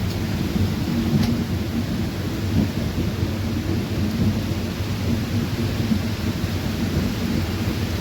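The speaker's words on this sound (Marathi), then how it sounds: "भरपूर आणि जोरात पाऊस आलेला आहे." Heavy monsoon rain pours steadily with a low rumble of thunder throughout, a dense continuous roar heard during a train journey through the Konkan hills near Dudhsagar waterfall.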